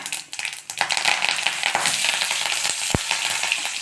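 Mustard seeds, cumin and curry leaves fry in oil for an okra tamarind curry, a steady close sizzle with fine crackles and a single sharp tap near the end, no voices.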